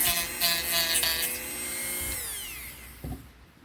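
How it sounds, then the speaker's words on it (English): Sanding a cracked Jeep XJ dashboard with a power tool gives a steady, close whirring grind that runs for about two seconds, then winds down in pitch and fades, followed by a brief clunk. "I'm going to go ahead and sand this a little bit more."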